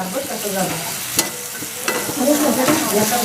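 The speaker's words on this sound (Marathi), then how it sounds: "आता हा कांदा आपण लालसर होतपर्यंत परतून घेणार आहेत" Chopped onions fry in a pan for a snake gourd vegetable dish, a steady close sizzle broken by scraping stirs and a few sharp spatula knocks, with no talking.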